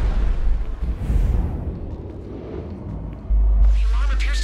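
An explosion goes off during a heist inside a building in Grand Theft Auto V, a loud rumbling blast that trails off, then a sudden heavy boom followed by an alarm-like ringing, with someone talking over it.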